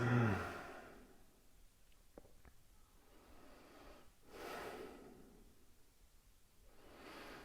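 Slow, deep breaths taken during a yoga flow, a long soft exhale at the start followed by two more broad, airy breath swells, near and quiet with no talking.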